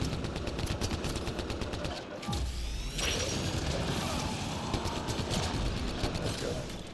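Rapid, sustained weapon fire aimed at a turret in the Mass Effect video game, a loud mechanical rattle of shots with clanking, grinding impacts and a brief crash partway through.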